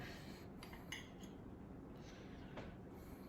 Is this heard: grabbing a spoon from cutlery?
yes